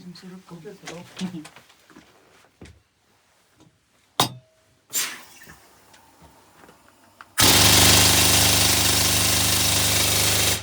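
After scattered voices and clatter, a heavy decades-old mining machine in the Ballarat gold mine roars to life with a loud, dense, continuous mechanical racket that drowns everything out.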